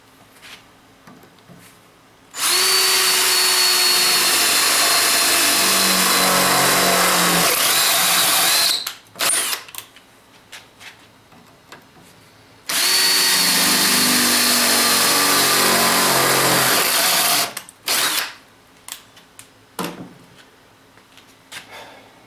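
A power drill with a 1/2 inch bit runs loud and steady in two long bursts of about six seconds each, with brief clatters and quiet pauses between them.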